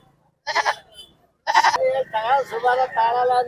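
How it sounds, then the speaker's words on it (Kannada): Sheep and goats bleat close by at the Sira sheep market in a few wavering calls, one short cry followed by a longer run of quavering bleats. "ಮೇಕೆ ಕುರಿ ಎಲ್ಲ"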